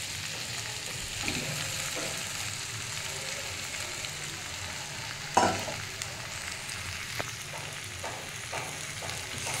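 Pre-fried chicken pieces go into a pan of cooked-down spiced masala, giving a steady, close sizzle and frying hiss with occasional stirring scrapes and one sharper clatter midway.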